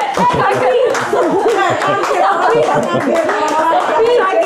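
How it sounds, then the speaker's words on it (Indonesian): People in a talk-show setting clap briefly amid lively chatter and chuckling, the claps mixed into overlapping voices and laughter close to the microphone. "Tepuk tangan dulu"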